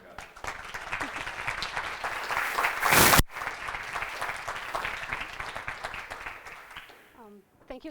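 Audience applause at a talk on Project Malmo and Minecraft AI research, a steady sustained clapping that swells briefly before tapering off near the end, with a voice starting up.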